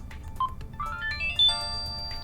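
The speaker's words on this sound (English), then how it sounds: "Gives you nice little ringtones, little notifications letting you know things have been saved." A short ringtone melody from a Just5 phone, a sequence of bright rising electronic beeps stepping upward in pitch, ending on a sustained tone, played alone over faint background noise.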